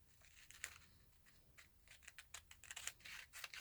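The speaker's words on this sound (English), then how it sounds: "I'm going to just cut out along the side" Scissors snip through a paper sewing pattern piece for a cowl skirt dress. Quiet, close crisp cuts come in an irregular series, growing busier and slightly louder toward the end, with faint paper rustling between them.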